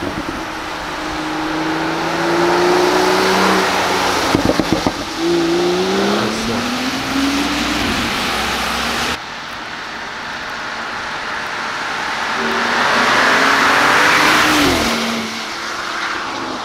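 BMW X3 with a burble exhaust tune, its engine droning and revving up and down in a long loud pass with gliding pitch, rough exhaust rumble and road noise throughout.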